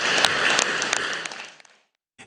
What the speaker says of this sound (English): Can we clap hands, please?